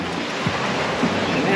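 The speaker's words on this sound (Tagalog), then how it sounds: "Lakas ng alon." Strong sea waves break and wash steadily onto a beach, a continuous loud roar of surf mixed with gusty wind buffeting the microphone throughout.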